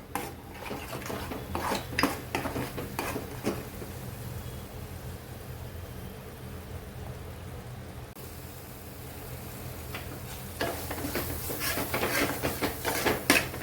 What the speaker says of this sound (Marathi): त्यामुळे आपले मसाले छान असे भाजून घ्यायचे तेल सुटेपर्यंत